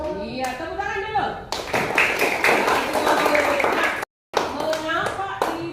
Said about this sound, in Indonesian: Iya, tepuk tangan dulu.